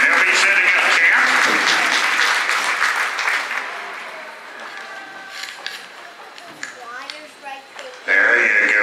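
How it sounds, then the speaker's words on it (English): Crowd at a Gypsy Vanner horse show celebration in Ocala, Florida breaks into loud applause, which thins out after a few seconds as an announcer's voice and scattered sounds carry on. "Let's give them all a big round of applause."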